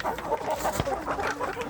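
Free-range village chickens, hens and young cockerels, cluck in short, irregular bursts that overlap one another at moderate distance with no talk over them.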